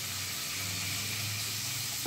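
Small-cut onion sizzles gently in a kadai, a constant close hiss of light frying heard alone, with a faint tap right at the end.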